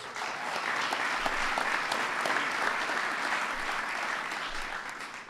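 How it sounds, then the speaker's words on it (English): Loud, continuous audience applause for the 2014-15 NBA champion Golden State Warriors at a presidential event, a thick wash of many hands clapping without pause. "Give them a big round of applause."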